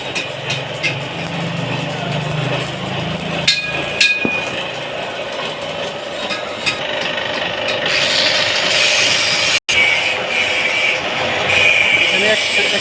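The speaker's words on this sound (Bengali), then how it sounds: "প্রপেলারের ওয়ারমগুলো কাটা হচ্ছে" Workshop metalwork on propeller worm parts for a tamarind wood oil ghani machine, a continuous grinding and rasping roar with sharp knocks and a hum of machinery, while a voice talks over it.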